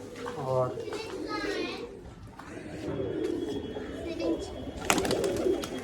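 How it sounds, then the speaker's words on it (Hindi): A few pigeons coo softly in the background while children play and someone talks, with faint bird calls mixed under the voices. "और ये कबूतर हैं कुछ"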